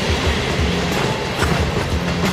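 A train passes close by, giving a loud, dense rumble with a rhythmic clickety-clack of wheels over rail joints throughout.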